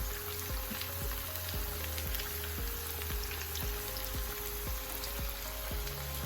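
Green plantain slices fry in a pan of hot oil, giving a steady, close, hissing sizzle with constant crackle and popping throughout, no talking.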